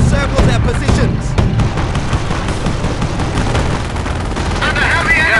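A World War II battle in Company of Heroes, in the Operation Market Garden mission, with loud, dense gunfire and explosions crackling almost nonstop under game sound.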